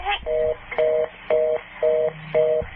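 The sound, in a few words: telephone call being hung up, line tones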